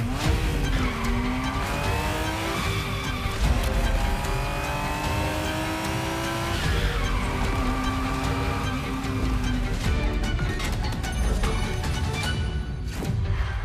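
A Ferrari Testarossa driven in The Crew Motorfest video game: the engine revs up and down through repeated gear shifts in rising sweeps, with tire squeal and skidding, loud and close and continuing without a break.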